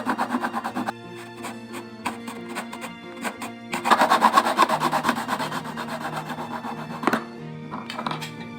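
A tree branch is cut with a saw, giving irregular scraping strokes that start and stop, a busier burst of rubbing in the middle, fairly quiet and close.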